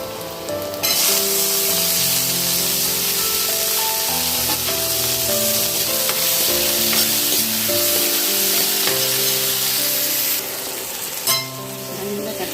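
Tomatoes tossed into hot oil over golden-fried onions for an elephant foot yam fry, sizzling loudly and steadily while being stirred in the pan, with the frying hiss dropping briefly near the end.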